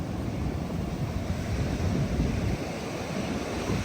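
Big ocean waves crash and surge onto Legian beach, Bali, producing a continuous loud roar of surf with heavy wind noise buffeting the microphone.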